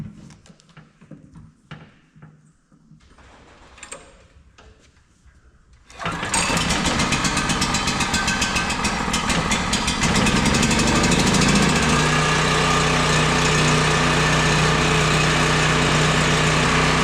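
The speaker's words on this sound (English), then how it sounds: "we gotta get our generator running" A generator engine cranks with a few uneven low sputters, then catches at about six seconds and settles into a loud, steady running drone that stays close and continuous to the end.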